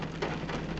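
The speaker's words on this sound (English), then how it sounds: "As you can hear, it's still raining." Rain falls in a steady, dense hiss, close and even throughout, with no other sounds.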